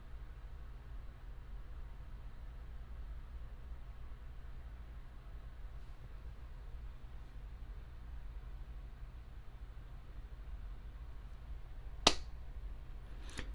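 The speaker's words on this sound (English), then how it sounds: "On the next attempt, I'm going to clap." One sharp, close hand clap near the end breaks a long stretch of steady low hum, clapped to trigger a Bauhn sound-activated wireless charging clock from Aldi, followed by a fainter second click.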